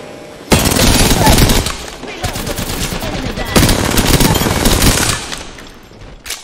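Rapid automatic gunfire from the Apex Legends video game, likely a Golden R-99 submachine gun, rattles in loud sustained bursts with short breaks, fierce and close throughout.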